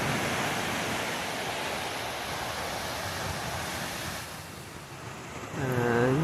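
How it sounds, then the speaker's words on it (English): Ocean waves wash steadily onto a seashore at low tide, a continuous soft surf hiss that swells slightly near the end, with no talk. "Not too many waves."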